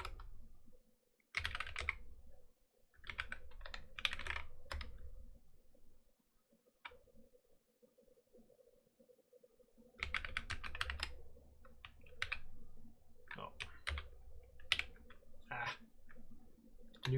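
Keystrokes on a new computer keyboard come in several quick bursts of close, crisp clicking with short pauses between them, over a quiet background hum.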